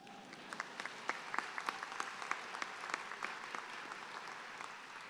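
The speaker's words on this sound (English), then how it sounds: "You can applaud them." An audience at a doctoral hooding ceremony applauds the ceremony staff, steady scattered clapping with sharper individual claps standing out, heard from a distance at low volume.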